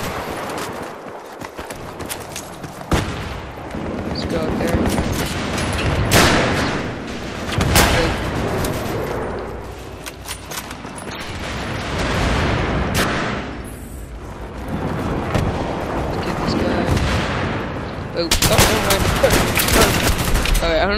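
Rapid gunfire and explosive blasts from a Battlefield 3 match on the Karg Island map, with repeated loud bursts and single shots scattered across a dense battle din, broken by brief lulls.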